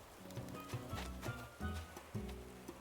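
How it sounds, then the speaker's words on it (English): Footsteps of a character walking in the video game Animal Crossing: New Horizons, a regular series of soft thudding steps with a tonal quality, even and moderately quiet. "It's just footsteps."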